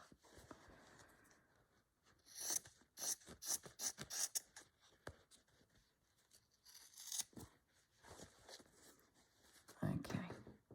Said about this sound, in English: Well, first let's just cut a few leaves.